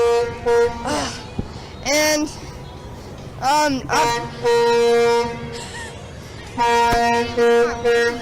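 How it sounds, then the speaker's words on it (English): A semi truck blasts its air horn repeatedly in a holiday parade, long loud tonal honks in bursts separated by short gaps, with people talking between and under the blasts. "And it looks like you can hear it honking."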